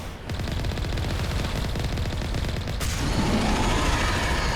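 Continuous rapid machine-gun fire in a video game, loud and unbroken, with a brief shift in texture partway through as another weapon or burst joins, and no talking.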